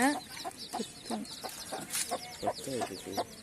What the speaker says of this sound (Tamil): இது வெளியில் கோழி குண்டு வச்சுருக்காங்க